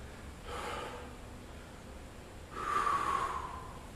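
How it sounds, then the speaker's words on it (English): Deep breaths after a home workout, cooling down on the back. Two slow, soft breaths are heard, one early and a louder one later, with quiet between them. "Take some deep breaths."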